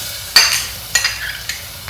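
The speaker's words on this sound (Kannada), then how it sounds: "ಇವಾಗ ರಬ್ಬ ಮಾಡ್ಕೊಳ್ಳೋಗೋಸ್ಕರ ನಾನು ಒಂದು ಪುಟ್ಟ ಪ್ರೆಷರ್ ಕುಕ್ಕರ್ನಲ್ಲಿ ಇದನ್ನು ಒಗ್ಗರಣೆ ಹಾಕ್ತಾ ಇದ್ದೀನಿ." Chopped onions fry in a tablespoon of sesame oil in a small pressure cooker, with a soft continuous sizzle broken by four sharp scraping stirs of a spoon against the metal.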